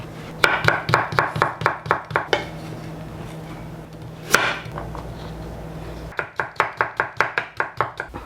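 Rapid, steady knife chops on a cutting board as carrots are cut into julienne strips, a run of crisp close strikes, a brief pause with one sharp knock, then another quick burst, without talking.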